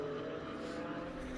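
Race cars at Daytona International Speedway during a historic 24-hour endurance event, heard as a steady, moderately distant engine drone with no talking.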